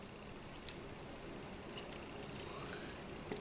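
Scissors snipping through hair, a few faint, crisp cuts spaced unevenly in a quiet room.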